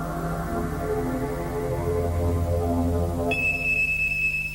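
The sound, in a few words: smoke alarm beeping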